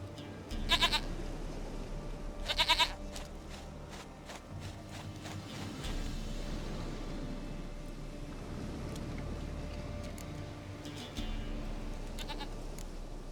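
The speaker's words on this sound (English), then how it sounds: "Goat of mine, dearest," Goat bleats from the Witcher 3 video game, two loud nasal bursts near the start and fainter cries later, over a steady low ambient game rumble.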